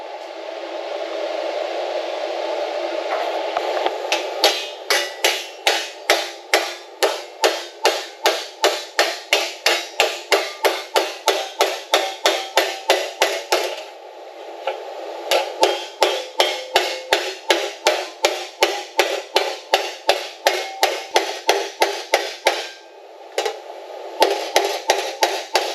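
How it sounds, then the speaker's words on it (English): Hammer and dolly shaping sheet metal for a 1956 Chevy truck tub: rapid, steady metallic hammer blows ring out in a long even series, close and loud, with a couple of brief pauses and a constant background hum. "So I'm going to hammer and dolly this"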